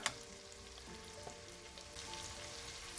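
Carrots and onions sizzle steadily in a pot while being stirred, a constant close frying hiss with a few faint clinks of the spoon against the pot.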